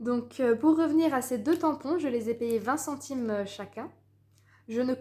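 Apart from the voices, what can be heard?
No everyday noise stands out behind the speech.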